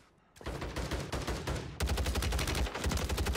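Rapid automatic gunfire in Call of Duty Warzone on Rebirth Island rattles close and loud in fast continuous bursts, pausing briefly before a second heavier burst.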